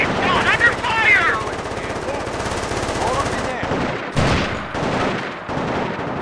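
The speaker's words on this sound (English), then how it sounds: "MP squad under fire!" Dense machine-gun bursts and rapid gunfire from the modern-warfare strategy game Company of Heroes: Modern Combat, loud and continuous with overlapping shots and a few sharper blasts, while a voice speaks over the battle.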